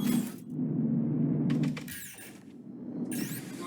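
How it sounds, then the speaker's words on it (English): Spaceship crashing into objects in Star Citizen, heard as broad shattering, crunching impacts in bursts over a steady low engine hum, with bright metallic scraping streaks near the end. "apparently our bounty smashed into stuff."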